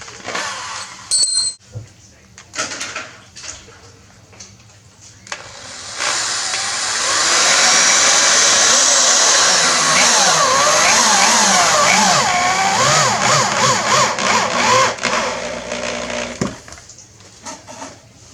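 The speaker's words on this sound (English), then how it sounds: "That'll put the screw that much deeper into the wall stud." A power drill drives and countersinks a screw into a wooden wall stud while a simple 2x10 lumber shelf is built, giving a loud, sustained whirring grind of several seconds after brief handling noises and speech.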